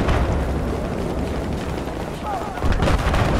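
Dense, rumbling gunfire and blasts from a video game firefight, with rocket-propelled grenade fire from a rooftop mixed into a steady wall of shooting and booms.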